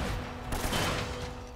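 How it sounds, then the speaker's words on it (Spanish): Gunfire in the Uncharted video game: dense, continuous bursts of shots crackle steadily through the whole moment, loud and close, with no talk over them. "Me están acribillando balazos, no sé si lo estáis notando."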